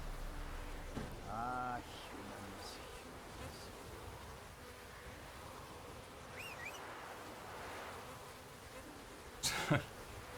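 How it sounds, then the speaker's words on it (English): Bees buzzing steadily in The Witcher 3: Wild Hunt, a faint continuous insect drone that runs the whole time beneath ambient game noise, with a brief louder burst near the end. "Hey, look, there's bees everywhere."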